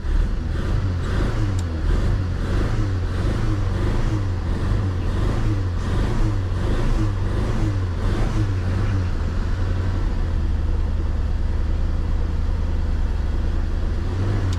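A hard-starting engine catches and runs, idling roughly with a throbbing pulse and brief revs, loud and close throughout.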